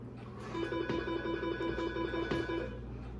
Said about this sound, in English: I'll let the phone ring for a minute